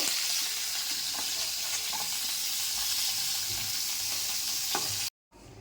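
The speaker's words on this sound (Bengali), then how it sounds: "হালকা হালকা করে লাল লাল করে ভেজে নিয়েছি" Steady, close sizzling of onions and cashews frying in oil, with occasional stirring scrapes, continuing alone until a brief cut near the end.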